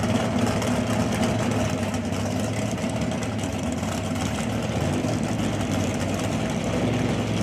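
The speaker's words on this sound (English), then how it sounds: "Mountain motor cars sound so good." Mountain motor drag racing cars' engines give a continuous heavy, loud rumble with a steady low throb and raspy texture, running unbroken and without any talk.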